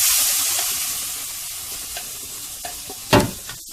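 Dal is added to a pan of chilli, turmeric, coriander and cumin powders for a Kerala-style dal potato curry, making a broad sizzling hiss that slowly fades, then scattered stirring scrapes and a sharp clatter near the end.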